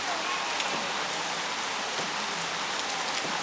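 Light rain patters steadily on a surface, a soft even hiss of drops with no voices.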